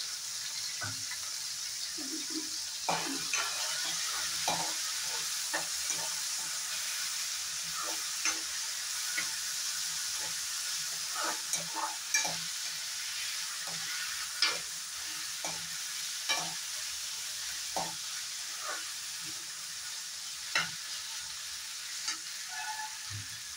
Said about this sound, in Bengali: সবগুলো ভালো মতো 1 মিনিট আমি ফ্রাই করে নেব।